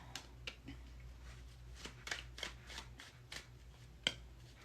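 Tarot cards drawn and laid out, a series of soft card snaps and slaps at irregular intervals, close and fairly quiet over faint room hum, no voices.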